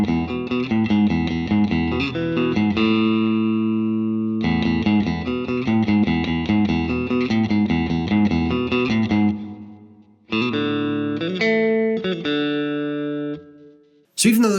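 Two interlocking electric guitar parts play together, one strumming chords while the other adds a simple lead run, with steady rhythm, brief pauses and a bright tone in the foreground.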